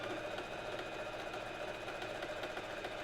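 A sewing machine runs a continuous zigzag stitch, a close, fast, even mechanical whirr with rapid rhythmic needle ticks throughout.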